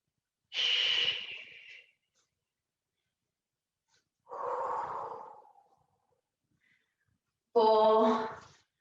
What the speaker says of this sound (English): Keep that breathing going.